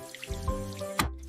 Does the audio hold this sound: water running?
yes